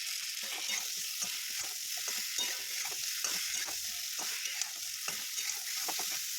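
Rohu fish and mango sour curry being stirred in a pan, with a steady sizzle of frying and repeated scraping, rhythmic stirring strokes close by, no voices.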